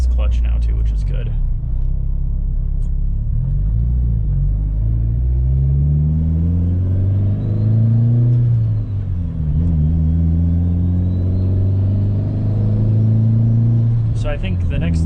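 A Mitsubishi Evolution 9 MR being driven after a rebuild, with metal found in the oil: a steady, loud engine drone that rises and falls as the car accelerates and shifts through gears, close inside the cabin.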